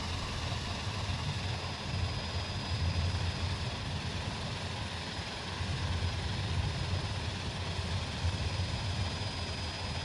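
A Super King Air turboprop spins up in Microsoft Flight Simulator, giving a steady, dense engine drone with a high whine laid over a low rumble, constant and close with no talk.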